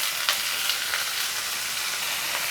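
Chopped chayote and onion frying in a pan, a loud, dense, continuous sizzle close by, steady throughout with a few faint stirring touches and no talk.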